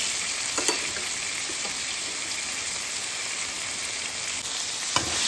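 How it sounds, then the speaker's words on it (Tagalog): Cuttlefish fries in a pan seasoned with pepper and Magic Sarap, giving a loud, steady sizzle with a few faint clicks and taps throughout. "Ilagay natin yung magic sarap ilagay natin yung cuttlefish."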